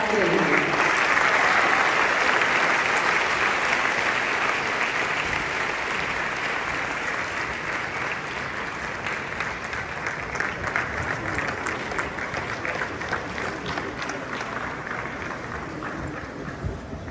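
A large audience applauds loudly as the Prime Minister of Rwanda is welcomed onto the stage. The dense clapping runs steadily for the whole stretch and eases only a little toward the end, with a crowd murmur mixed in.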